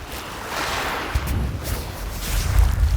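Surf rolls onto a beach with a broad wash of noise, heavier low thumps of waves breaking near the end, and some wind, without any speech.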